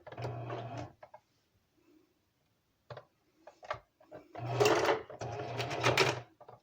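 A sewing machine runs in short bursts, with a brief whirring start, scattered clicks and pauses, then a longer loud stitching run near the end.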